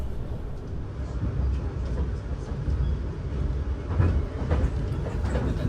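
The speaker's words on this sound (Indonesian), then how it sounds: "Kalau kereta yang ini kayaknya kereta Walahar teman-teman, dari arah Cikarang tujuan ke arah Purwakarta" A Walahar commuter train running from Cikarang toward Purwakarta passes with a continuous heavy rumble and faint clatter of wheels, steady and fairly near, with no voices over it.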